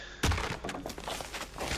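A sudden thudding blast in the EQN Landmark video game, one sharp low boom followed by a short stretch of rumbling, crackling debris.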